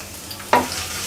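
Onion, garlic and chillies fry in oil in a wok under a soft sizzle, with one sharp stirring scrape midway.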